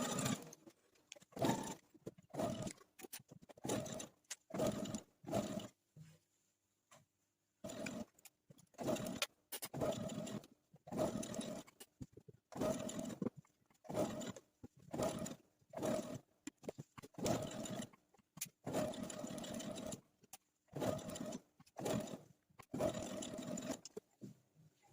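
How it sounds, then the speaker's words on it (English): A sewing machine stitches satin to gather it into a bonnet, running in repeated short bursts separated by brief pauses, close and fairly quiet, with no talking. "Let me go to my sewing machine."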